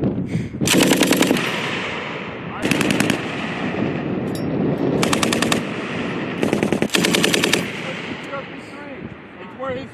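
U.S. Marines fire an automatic grenade launcher rapidly at an enemy machine gun bunker during training, loud repeated bursts of fast thumping shots separated by short pauses, with voices talking between and over the bursts.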